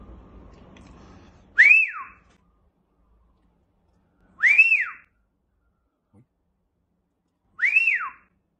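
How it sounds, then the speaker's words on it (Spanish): A person whistles to a pet parrot: three loud, clear, rising-and-falling whistles spaced a few seconds apart, close by with silence between them. "Oye, le voy a echar un chiflido."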